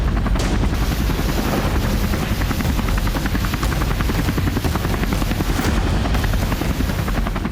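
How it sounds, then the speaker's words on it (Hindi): US AH-1Z Viper attack helicopter in flight, its rotor chop a loud, continuous rapid thumping that fills the whole stretch with no voices. "ये है अमेरिका का AH-1Z वाइपर अटैक हेलीकॉप्टर।"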